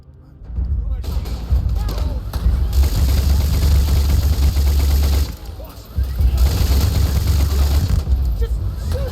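Sustained, loud minigun fire from the game Starfield roars in long bursts with a brief pause midway, dense low-end rumble throughout, with speech mixed in.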